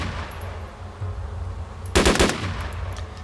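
A short burst of rapid gunfire goes off once, loud and close, while shooting zombies in DayZ. Quiet ambience sits before and after it.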